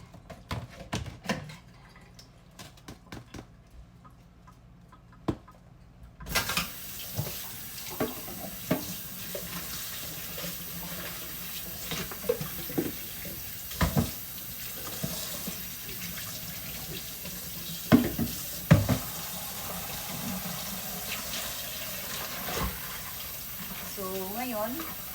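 Kitchen tap running while dishes are washed at a sink after spilled adobo oil, a steady water stream with clinks and splashes, someone talking over it.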